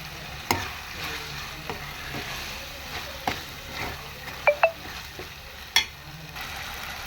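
Taro root being stirred into a frying tomato curry, a low continuous sizzle overlaid with scattered sharp clinks and scrapes of a spoon against the pan, several louder knocks standing out near the end.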